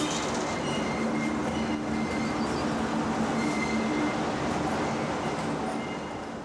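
A British Peak class diesel locomotive rumbles past on a mainline, its engine and rolling wheels making a dense, steady roar with a faint metallic squeal, fading slightly at the end.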